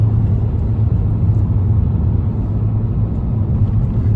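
Loud, steady low engine thrum from a Fiat Panda 100HP with a 1.4-litre engine at speed on the Oulton Park track, a constant droning rumble with no gear changes or voices.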